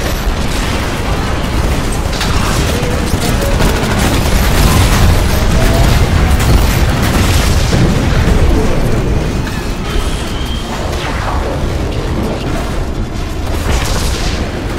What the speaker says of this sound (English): Spinning up the cannons for another shot.